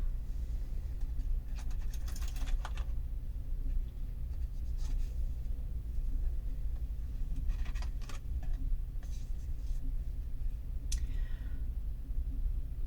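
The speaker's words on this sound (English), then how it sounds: "I'm going to pick up the cards and see if there's any last message I get from them." Oracle cards are picked up and handled close by, giving soft scattered rustles and light taps in short clusters over a steady low hum, with no talking.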